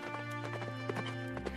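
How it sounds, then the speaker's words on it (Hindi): A horse's hooves clip-clop steadily as a rider arrives on horseback in an animated Hindi folk story, with an even, rhythmic beat over a sustained musical background. "अपने घोड़े पर बैठकर फिर वहां आया।"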